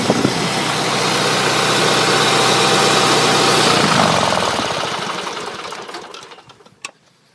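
A propane-driven Onan 3,500-watt, 120-volt generator runs with a steady loud engine hum, then shuts down and winds to a stop, leaving a final clunk and near silence.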